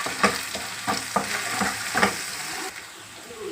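Turmeric and spices fry in a pan, a close sizzle punctuated by a series of rhythmic stirring scrapes that fade toward the end, with no talking.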